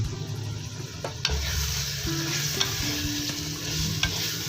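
Fish pieces sizzle and fry in karahi masala while being stirred, a steady close hiss of frying under scraping stirring strokes and occasional light clanks, with no talk.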